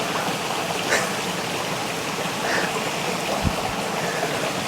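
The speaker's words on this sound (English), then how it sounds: "The water that we see coming over the weir at the moment" Steady rushing water pours continuously over a drop, a broad even roar with no voices.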